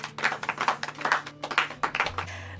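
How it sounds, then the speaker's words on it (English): A single person claps their hands for a short round of self-applause, a quick run of close, sharp claps lasting a couple of seconds with no talking. "I'm gonna give myself a round of applause"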